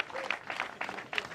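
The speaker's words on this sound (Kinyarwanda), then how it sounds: "Amashyi menshi cyane kuri ababyeyi." Applause from a wedding crowd, a short burst of several rhythmic clapping pulses, fairly close and steady over about a second.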